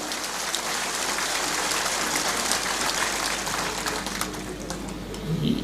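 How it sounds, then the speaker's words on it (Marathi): A crowd of party workers at a political rally claps steadily to welcome Sharad Pawar, a dense, even patter of many hands sustained throughout without any break. "आपण सर्वांनी टाळ्या वाजून पहिल्यांदा पवार साहेबांचं या ठिकाणी स्वागत करा"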